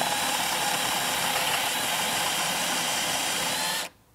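A drill with a paddle bit bores into wood while building a sawhorse, giving a loud, steady, even whir that runs unbroken for nearly four seconds before cutting off abruptly.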